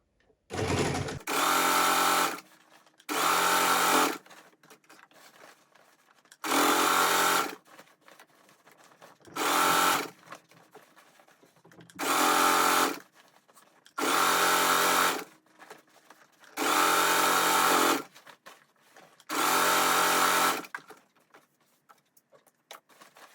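Sewing machine stitching the opening of a fabric Easter basket, running in eight steady bursts of a few seconds each with short quiet pauses between, close and loud with no talk.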